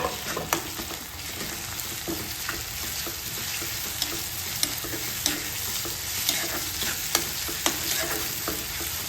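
Chopped onion and tomato sizzle in a pan for Sindhi dal, a steady frying hiss broken by repeated sharp scraping clicks of a spoon stirring, close and with no speech.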